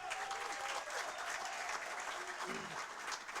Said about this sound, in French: la sœur Princesse Eudes, que je vous demande d'applaudir fortement.